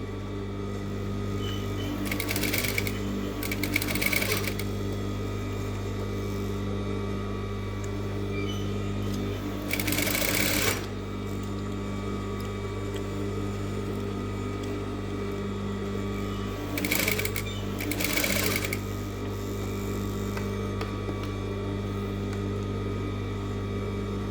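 A sewing machine stitches the hem of a blouse in three short running bursts spaced apart, each rising over a steady low background hum.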